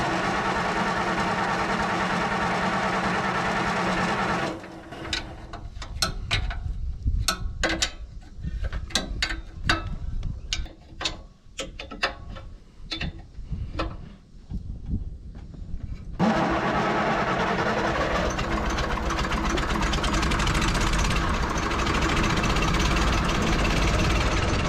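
An excavator's diesel engine after injector, valve and timing work runs loud and steady, then drops into a stretch of sharp irregular clattering bursts while cranking and catching, before settling back into a continuous heavy running note.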